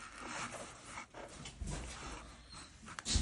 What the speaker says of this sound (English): My dogs were going after squirrels.